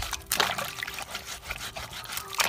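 A pot is scrubbed with a scouring ball and water in a home kitchen, giving short, close, wet scraping bursts and splashes that come in irregular strokes, with no talking.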